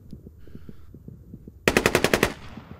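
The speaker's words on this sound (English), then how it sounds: "That's an AK right there" AK rifle fire in an online shooter game: a rapid burst of about eight loud, sharp shots closes the clip, after soft, rhythmic thumping footsteps or movement sounds.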